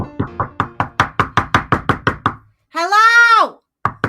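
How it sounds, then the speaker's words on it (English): A door is knocked on in a steady run of about twelve sharp, evenly spaced raps, then a voice calls out briefly, followed by one more knock at the end. "it sounded like a knock"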